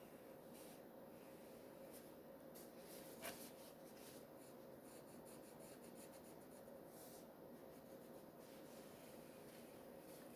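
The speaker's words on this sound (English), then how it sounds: "bring a line down. I'm drawing it very lightly" A pencil draws a very light guideline across a card, a soft, steady scratch that runs unbroken for several seconds, faint and close with a quiet room behind it.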